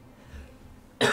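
One sudden loud cough bursts out after a quiet moment, sharp and close.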